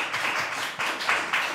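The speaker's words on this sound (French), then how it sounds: "on peut tous applaudir Audrey." An audience applauding a presenter at a talk: brisk, fairly close clapping that swells in waves, with no one speaking over it.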